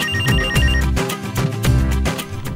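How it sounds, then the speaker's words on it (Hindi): A telephone rings with a loud electronic ringtone, a repeating pattern of tonal bursts roughly every half second, close and clear with no voices. "आप लोगों ने जावेद साहब का फोन नहीं उठाना"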